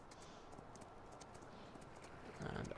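Horse hooves clip-clopping in Farming Simulator 19 on PS4, a faint steady patter of hoofbeats over background ambience, swelling louder near the end.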